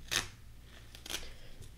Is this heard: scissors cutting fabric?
yes